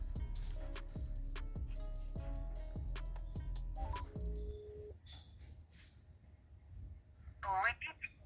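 A phone ring tone, calling a GSM alarm module to remotely start a Toyota ProAce van's engine, repeats several times in a steady rhythm, then stops, followed by brief electronic beeps and a voice over the line.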